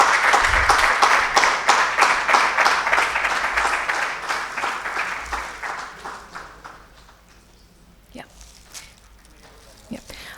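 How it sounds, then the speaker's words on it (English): At a CSR awards event, an audience claps with a strong rhythmic beat that gradually fades, leaving scattered softer sounds and a few stray taps at the end. "Can we have a huge round of applause for this monumental launch?"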